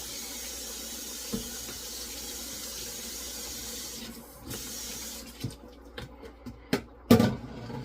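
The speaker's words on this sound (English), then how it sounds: "I'm gonna add some water to it just for a style to show you that you can do it." Water pours from a tap into a pot of rice and peas, a steady hiss that breaks into splashy, uneven bursts near the end.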